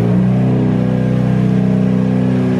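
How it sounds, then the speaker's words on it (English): A turbocharged car engine, with a Skyline built on the same project, revs steadily at close range, a loud continuous harmonic drone with a fast pulsing rattle that holds throughout with no voices. "Give it a little rev."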